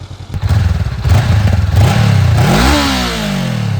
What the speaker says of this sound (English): We'll go ahead and rev it so you can hear it.